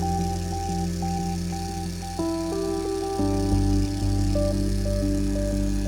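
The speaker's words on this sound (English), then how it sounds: "Turn the knob slightly, and the motor starts moving gently." A DC motor driven by Arduino PWM speed control, a steady electronic whine made of sustained tones that step upward in pitch twice as the speed setting is raised, close and moderately loud.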